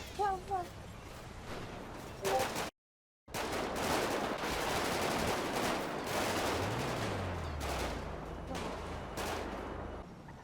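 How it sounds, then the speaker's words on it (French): Gunfire crackles between police and bank robbers during a heist in a GTA game, with bursts of rapid shots over a busy, noisy background, a voice speaking early on and a brief dropout partway through. "Des gros échanges de coups de feu se font entre la police et les braqueurs."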